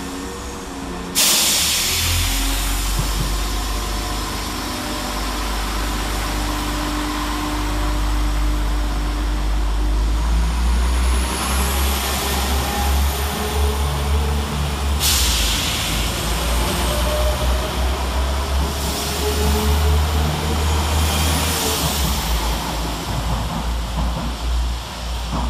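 Class 172 diesel units 172 101 and 172 331 idle and pull through Smethwick Galton Bridge station on a West Midlands Railway service: a loud, steady low diesel drone with hissing air bursts and a rising engine note, no speech.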